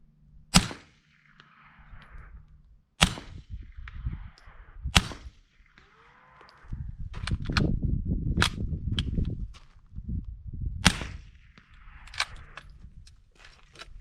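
Suppressed subsonic gunshots through a JK Armament suppressor, several sharp muted cracks spaced a second or more apart, with shuffling and handling noise between shots.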